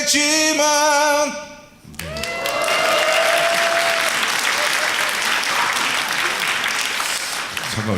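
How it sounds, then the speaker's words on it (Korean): An audience bursts into steady applause at a hospital event in Daegu, following a singer's sustained sung note that cuts off abruptly; the clapping stays dense and even to the end. "잠깐 이렇게 박수를 받는데"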